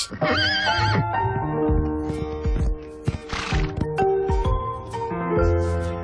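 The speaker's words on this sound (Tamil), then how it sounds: "ஆனா இது ரொம்ப நல்ல குதிரை." A horse neighs loudly and close by with a wavering whinny at the start, followed by snorts, hoof clops and further whinnies, with no speech.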